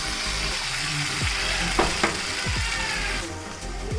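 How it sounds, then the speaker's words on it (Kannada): Capsicum and ground masala fry in a home kitchen pan with a steady, close sizzle throughout, broken by a few spoon scrapes against the metal near the middle. "ಇದನ್ನು ಚೆನ್ನಾಗಿ ಫ್ರೈ ಮಾಡ್ಕೋಬೇಕು"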